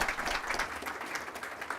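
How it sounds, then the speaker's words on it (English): Brief burst of audience applause at an embassy event, a dense wash of clapping at moderate level throughout the short stretch. "how about giving them another round of applause as we say thank you"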